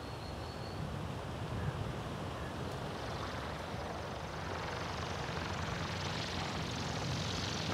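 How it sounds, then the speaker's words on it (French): An electric ultralight aircraft comes in to land in a field, giving a steady, faint propeller whoosh mixed with wind noise that holds evenly throughout. "Je vais faire un atterrissage sur le champ"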